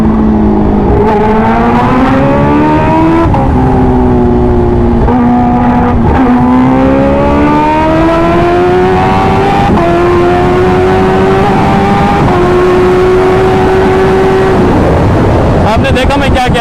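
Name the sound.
Kawasaki H2R motorcycle accelerating at high speed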